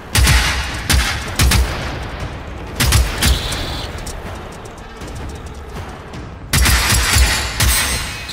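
Bursts of gunfire in the Generation Zero video game, loud clustered volleys near the start, around the three-second mark and again at the end, with a steady rumbling bed of combat noise between them.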